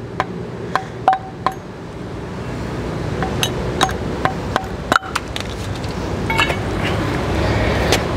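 Tapping out the plastic Hyundai logo cap from the wheel of a 2021 Hyundai Santa Fe spare-tire setup: a series of sharp, close plastic clicks and knocks spread irregularly over steady background noise.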